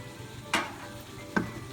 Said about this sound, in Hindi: अच्छा ये देखें, ये अब भून रहे हैं, थोड़ी देर में ये भुन जाएगा